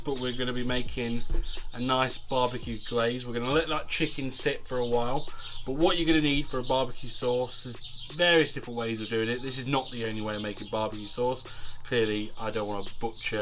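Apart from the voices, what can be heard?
birds cooing and chirping outdoors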